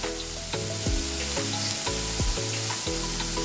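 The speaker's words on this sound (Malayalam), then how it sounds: "ഞാനൊരു പച്ചമുളക് ചീറിയിട്ട് വെച്ചിട്ടുണ്ട് അതിലേക്ക് ഇട്ട് കൊടുക്കാം" Slit green chili dropped into a hot pan of oil, a loud, steady close sizzle with a few sharp pops and stirring scrapes, no voices.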